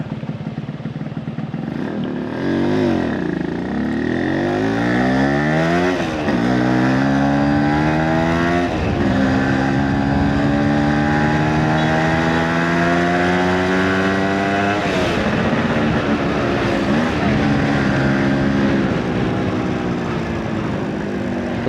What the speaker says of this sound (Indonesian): ini cuma ngetes motor doang, ngetes mesin sih sebenarnya